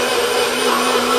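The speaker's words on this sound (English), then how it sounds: "this blender right here" A kitchen blender runs at full speed while an omelet is being made, giving a loud, steady, unbroken whir that fills the whole moment on its own.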